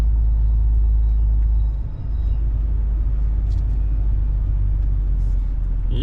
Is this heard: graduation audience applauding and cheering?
no